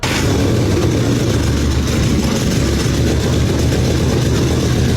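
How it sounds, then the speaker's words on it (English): A rebuilt VW Golf 7R engine runs after its first startup, a steady loud mechanical drone with a constant low rumble and no pauses or talk over it. "It is time to give this car its very first startup."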